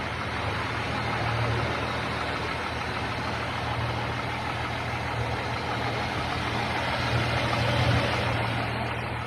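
1982 classic car engine idling after running for an hour, a steady low rumble heard outdoors at moderate distance amid background ambience.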